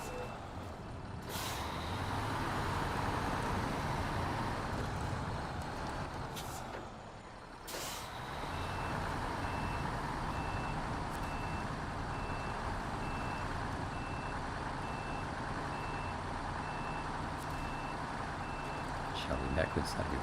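A heavy truck fitted with a crane backs up in SnowRunner, its reversing alarm beeping steadily over a low, rumbling engine, with sharp air-brake hisses near the start and a voice talking throughout.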